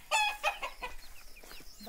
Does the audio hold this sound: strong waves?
no